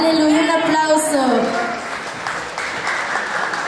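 Audience applause for a quinceañera at a church celebration, clapping swelling under a presenter's voice, then continuing steadily on its own before fading slightly.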